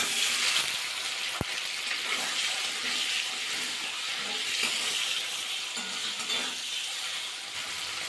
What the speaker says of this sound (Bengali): পনিরটা ভাজা করব।